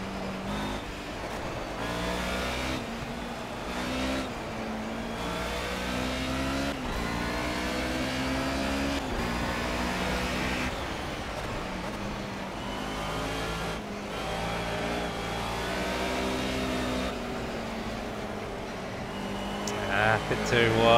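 Mercedes 190E touring car engine in the Project CARS racing game, lapping Brno in the rain: a steady, loud droning roar with shifting rev pitch that rises near the end, with a voice talking over it.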